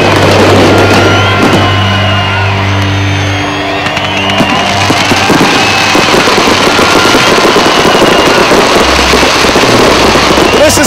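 At the SummerNats 20th anniversary car festival, fireworks set off loud, dense pops and crackles. Engine rumble and raised voices from the crowd run through the din.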